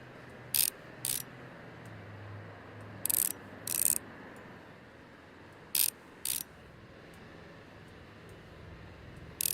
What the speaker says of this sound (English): Well, let's put it back together, I suppose. There. Put the screws back on.